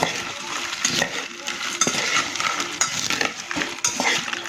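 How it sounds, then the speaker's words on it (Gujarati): Ingredients for corn poha chaat tossed together with a spoon in a bowl, giving a series of quick scraping, clinking stirs at close range with no voices. "હવે બધું જ આપણે મિક્સ કરીશું।"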